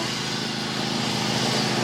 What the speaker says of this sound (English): There's someone over there mowing right now.